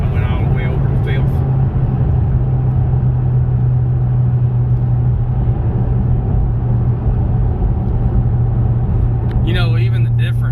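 A 2013 Ford Mustang with the 5.0L engine cruises on a test drive, heard from inside as a steady low engine drone and road rumble under ongoing conversation.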